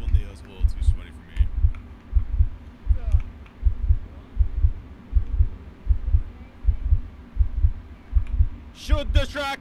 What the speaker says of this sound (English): Why is the heartbeat going faster?